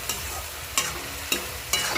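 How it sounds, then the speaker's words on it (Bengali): Eggs being stirred through a frying curry masala for egg curry, with a soft continuous sizzle broken by four sharp spatula scrapes spaced evenly against the pan, close and fairly loud, no voices. "ডিম দেওয়া হয়ে গেল, এবার ডিমগুলো একটু ভালো করে নেড়ে দিতে হবে।"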